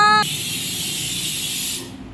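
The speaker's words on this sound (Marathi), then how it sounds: "इकडे स्वानंदीचा कुकर झालेला आहे" A kitchen pressure cooker vents steam in one steady, loud, broad hiss lasting about a second and a half after a short tonal burst, then cuts off abruptly.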